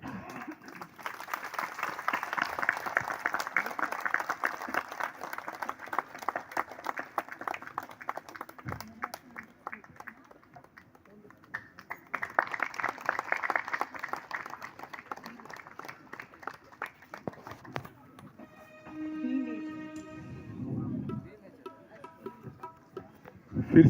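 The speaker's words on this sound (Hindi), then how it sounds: "तालियों से" Applause from a gathering at a welcoming ceremony for guests at a meditation event, two bursts of steady clapping, moderately near, with a pause between and a short voice near the end.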